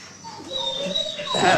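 A dog gives soft, high whimpers and whines close by for a moment, with people talking over and around the sound.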